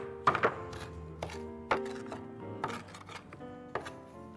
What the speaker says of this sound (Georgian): ეხლა დავჭრი ბაზილიკს და პიტნას